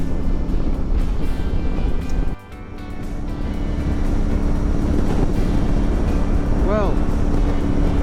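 Strong wind buffeting the microphone outdoors, a loud continuous low roar with gusts and one brief lull, while someone speaks over it.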